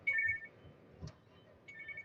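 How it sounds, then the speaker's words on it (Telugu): A mobile phone rings while riding through city traffic: a faint, short electronic ringtone pattern sounds at the start and again near the end over quiet road background. "ఫోన్ వస్తుంది కానీ ట్రాఫిక్లో ఫోన్ మాట్లాడకూడదు"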